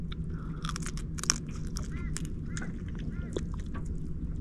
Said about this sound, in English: Sorry about the slurping sounds.